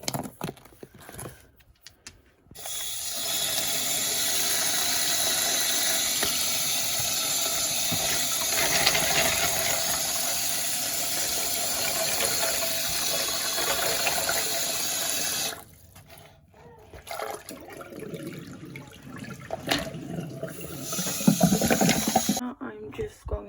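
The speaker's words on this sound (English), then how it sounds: "All of the pebbles in here to wash." Pebbles from a baby Horsefield tortoise enclosure sloshed and rinsed under a running tap, a steady broadband wash of water for most of the span, pausing briefly, then resuming with rattling handling and a few louder splashes near the end.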